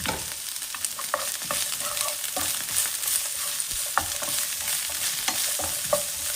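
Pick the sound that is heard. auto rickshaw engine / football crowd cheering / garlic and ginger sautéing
garlic and ginger sautéing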